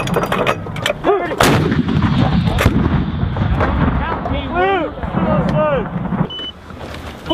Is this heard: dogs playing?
no